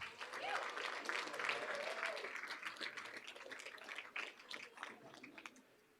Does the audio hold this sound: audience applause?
yes